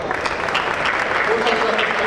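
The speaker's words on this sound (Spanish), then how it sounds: "Yo creo que se han ganado un merecido aplauso, ¿verdad?" An audience at an automotive body-repair trade meeting applauds after a panel, a steady patter of clapping with voices audible underneath.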